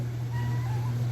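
A pet cat meows faintly indoors over a steady low electrical hum, a single soft drawn-out call with no talk.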